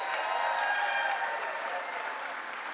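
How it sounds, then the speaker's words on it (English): Steady applause from a large crowd at a Tampa Bay Lightning event, a dense wash of clapping that holds evenly throughout, with faint cheering mixed in. "Let's hear by applause."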